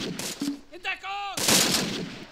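Gunfire in the WWII strategy game Close Combat: Panthers in the Fog, with a burst of rifle and machine-gun shots, a short crackling lull and then a loud, dense volley close by.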